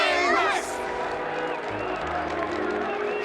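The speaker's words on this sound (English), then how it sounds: "Let us gift our applause and cheers to these brave and dauntless Nameless." A game crowd in Honkai: Star Rail's Penacony cheers and applauds the Nameless in a rousing festive burst, loud and close, with voices calling out among the roar.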